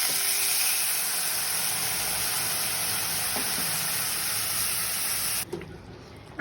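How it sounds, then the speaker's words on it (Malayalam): Cooled boiled water goes into hot roasted masala for dum aloo, giving a loud continuous hiss and bubbling that runs steadily for several seconds, then cuts off abruptly near the end. "എന്നിട്ട് തിളപ്പിച്ചാറിച്ച വെള്ളം ഒഴിച്ച് മസാല മിക്സ് ചെയ്യും."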